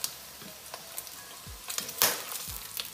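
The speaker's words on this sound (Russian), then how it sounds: "Пока дожариваются наши яйца" Eggs frying in a pan for a Korean-style sandwich, a soft steady sizzle with faint crackles and a few light clinks and scrapes of utensils, fairly quiet and close.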